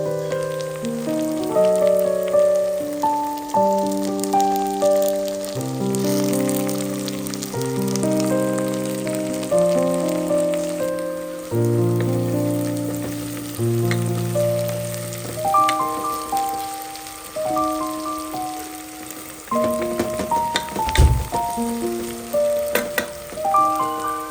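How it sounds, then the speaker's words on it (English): Onions fry in a pan until brown, giving a continuous crackling sizzle heard under steady background music, with an occasional utensil knock and no voices. "he's going to cook up the onions until they turn brown"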